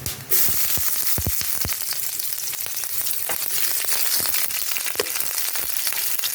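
Dried red chillies and onions frying in hot oil, a steady loud sizzle with sharp crackles and pops scattered throughout, close and unbroken, no voices.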